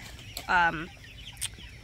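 A backyard flock of chickens, including a rooster and hens, gives one short, loud cluck close by, then a faint chirp a moment later, with no talk.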